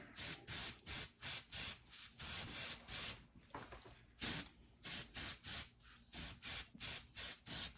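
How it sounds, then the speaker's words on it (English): Short bursts of airbrush spray hiss applying gold paint to a bath bomb, repeating in a steady on-off rhythm with brief pauses between, close and fairly loud, with no talking. "now I'm just going to spray some of the gold on there just to give it some glimmer"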